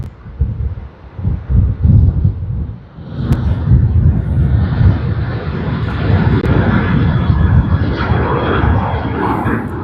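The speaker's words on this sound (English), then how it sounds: "we have Sydney to Nadi service on Qantas's QF101 Boeing 737-800" Qantas flight QF101, a Boeing 737-800 bound from Sydney to Nadi, roars loudly and close, with gusty wind buffeting the microphone early before the engines settle into a sustained heavy rumble.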